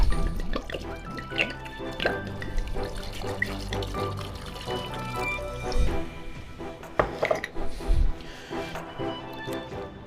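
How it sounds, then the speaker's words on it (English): A full bottle of wine poured into a glühwein pot already holding oranges and orange juice, a continuous splashing, gurgling liquid stream with some clinks, close and moderately loud. "we are going to add the full bottle of wine."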